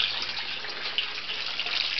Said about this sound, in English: Okay, water flow is picking up.